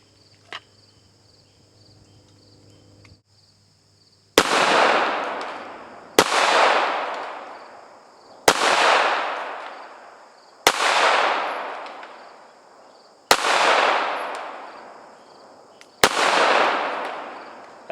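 Six loud, sharp .45 pistol shots ring out at a shooting range, fired at a steady pace roughly two seconds apart, each followed by a decaying echo. A short quiet stretch comes before the first shot.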